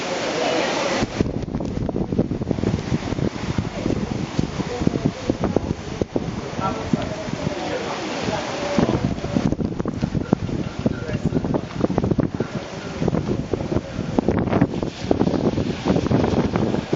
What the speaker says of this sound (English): See, the wind is picking up very heavy.